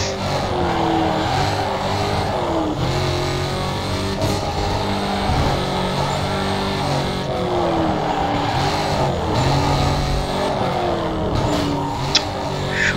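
Cars roar and drift in Need for Speed Carbon, with engines revving up and down continuously, tires skidding and a loud racing drone throughout the run.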